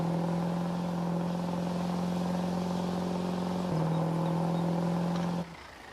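A 2012 Chevy Silverado Duramax diesel truck in Farming Simulator 22 drives with a steady, loud engine drone and a slight pitch shift partway through, before the sound drops off abruptly near the end.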